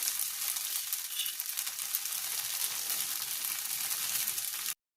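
Green gram dosa (pesarattu) fries in oil on a pan with a continuous bright sizzle and crackle. It holds steady at close range for several seconds, then cuts off abruptly, with no one speaking.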